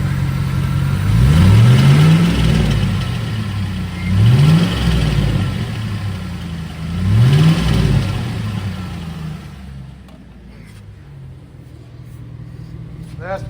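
A 2006 Chevrolet Silverado engine revved three times in quick succession, each rise and fall of the motor carrying a rattling noise, then settling back to a quieter idle.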